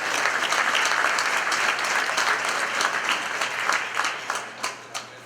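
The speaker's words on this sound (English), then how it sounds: "a round of applause for perseverance through this great day." Audience applause at a groundbreaking press conference in Astoria, Hallet's Point, with dense, steady clapping that holds loud for several seconds, then thins into scattered separate claps.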